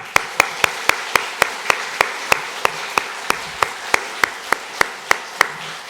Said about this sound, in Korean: 우레와 같은 박수로 영광을 돌리겠습니다